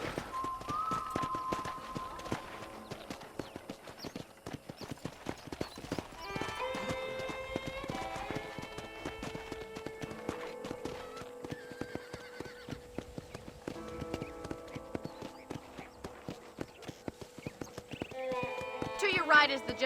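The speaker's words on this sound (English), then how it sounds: "let's see if you can still ride a horse" A horse being ridden in Red Dead Redemption, steady rhythmic clip-clop of hooves with a neigh, backed by game music and occasional talking.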